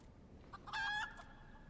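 A chicken in Final Fantasy XIV lets out a brief, bright squawking call, a short burst over quiet game background, with no speech.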